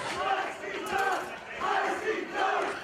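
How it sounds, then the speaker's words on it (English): A Boston crowd at an ultraviolent wrestling match, John Wayne Murdoch vs SHLAK, chants a three-beat cheer, repeating it in rhythmic swells that rise and fall across the arena. "you hear the crowd in Boston chanting those 3 letters"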